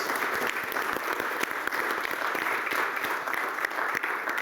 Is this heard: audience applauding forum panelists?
yes